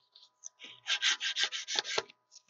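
Burrs are filed off the electrodes of a Sunstone capacitive-discharge battery tab welder in a quick series of about eight short, raspy rubbing strokes, close and fairly quiet, with no talk.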